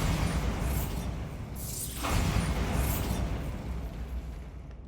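Bombarda blasting spell going off in Hogwarts Legacy, a broad roaring burst that swells around the midpoint over a dense, rumbling background of game ambience, with a sweeping whoosh and no talking.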